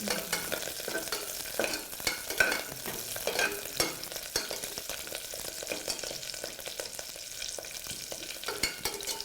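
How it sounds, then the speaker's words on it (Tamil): Mint leaves fry in hot oil for vegetable dum biryani, producing a constant crackling sizzle punctuated by frequent sharp stirring scrapes and taps of a spoon against the pan, close and moderately quiet. "இப்போ புதினா நல்லா வதங்கின பிறகு அது பொரிஞ்சிடும்"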